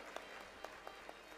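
Audience at a religious discourse clapping in sharp, separated pairs of claps, faint and distant with a spaced repeating rhythm.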